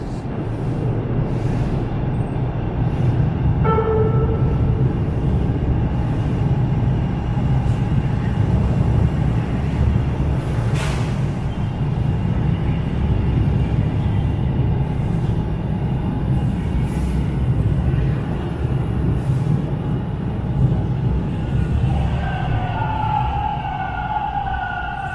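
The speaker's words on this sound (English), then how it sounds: "we'll just watch this train come in" A train rolls into a station in Toronto's Bloor West Village, with a continuous low rumble and rolling rail noise, a few brief squeals and tones, and a rising whine near the end, loud and close with no talk.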